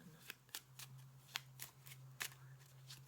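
Tarot cards cut and shuffled during a reading, a series of crisp papery snaps and riffles spaced irregularly over a low steady hum, close and fairly quiet with no talking.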